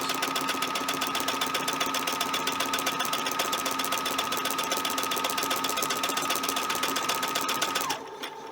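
A sewing machine stitches an automatic one-step buttonhole, running a fast, steady rhythmic whir close up for about eight seconds before stopping abruptly.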